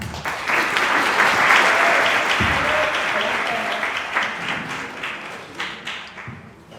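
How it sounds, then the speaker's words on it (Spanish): An audience applauds to welcome the speaker for the opening lecture of a literary festival in Mar del Plata, a full, steady round of clapping that gradually thins and fades toward the end. "así que pido que lo aplaudamos y lo hagamos pasar."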